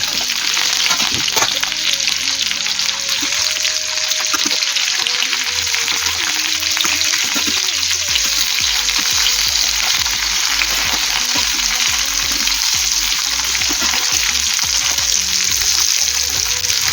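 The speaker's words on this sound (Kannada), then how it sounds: "ಕರಿಬೇವಿನ ಸೊಪ್ಪು ಹಾಕ್ತಾ ಇದ್ದೇನೆ. ಒಟ್ಟಿಗೆ ಫ್ರೈ ಆಗಲಿ" Sardine fish with curry leaves frying on a tawa, a loud, continuous sizzle and crackle with occasional stirring scrapes and clinks throughout.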